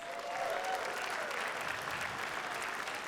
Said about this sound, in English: We mentioned Gruber Law Offices. Give them a big round of applause.